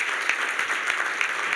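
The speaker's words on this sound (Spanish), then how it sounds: "Le da ese aplauso al Señor" Steady applause from a crowd, continuous clapping with a few louder bursts throughout.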